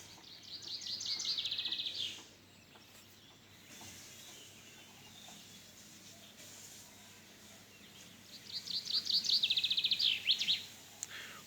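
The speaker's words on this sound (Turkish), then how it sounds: "Kuş sesleri cıvıl cıvıl etmekte." A small bird sings two quick trilling phrases, several seconds apart, over a quiet village outdoor background in Turkey.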